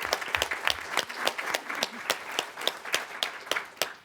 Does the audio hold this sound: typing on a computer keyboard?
no